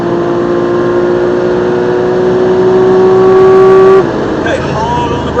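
A race car accelerates on the Silverstone circuit during a driver training session. The close, loud engine note climbs steadily in pitch for about four seconds, then drops and changes as the throttle and gears shift.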